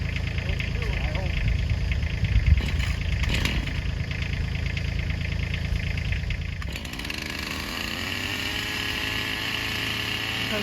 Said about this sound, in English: Bill's going to provide the pressure in the tractor, and David's going to cut the tree.